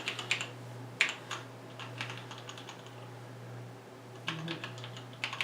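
Scattered keystrokes click on a restored Cherry mechanical keyboard, light taps in small irregular bursts over a steady low electrical hum.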